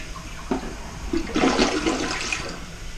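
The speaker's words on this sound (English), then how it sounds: "Yep, that sounds like a toilet." A toilet in a cheap house with new water lines and a gas water heater flushes in a loud rushing surge, then settles into a steady refilling hiss, close by and with no speech.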